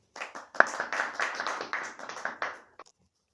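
Brief burst of applause and clapping for a team at a scripture quiz competition, lasting about two and a half seconds before stopping, with one last stray clap.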